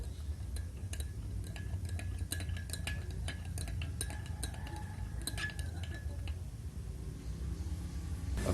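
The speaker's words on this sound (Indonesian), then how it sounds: "nah bisa kita aduk." A spoon clinks repeatedly against a glass while brewing tea is stirred, bright metallic taps in an irregular rhythm over a steady low background hum, fading out toward the end.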